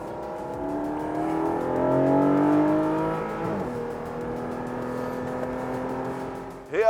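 A sports car, a Porsche, accelerates hard around a race track, its engine rising steadily in pitch through the gears with a brief dip at a shift and a sharp rev at the end, loud and close with no talk.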